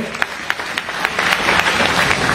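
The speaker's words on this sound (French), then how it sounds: "le maire de la commune d'Isia, M. Fane Karim, qu'on applaudit bien fort" An audience applauds the mayor of the commune of Isia at a public gathering in a hall, with dense, steady clapping that builds over a couple of seconds and holds at a fairly loud level.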